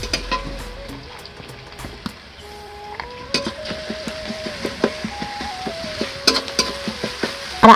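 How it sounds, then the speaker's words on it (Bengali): Ginger and garlic paste frying in hot oil, with a spoon repeatedly scraping and clinking against the pan over a soft sizzle; no one speaks. "আদা বাটা আমি তেলে দিয়ে দিয়েছি"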